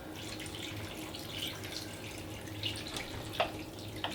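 Water poured into a stew pot of vegetables and stock cube, a soft steady trickle and splashing with a few drips, fairly quiet and close, no talk.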